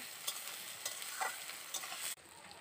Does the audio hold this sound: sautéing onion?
yes